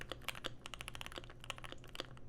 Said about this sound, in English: Still a nice, soft typing experience.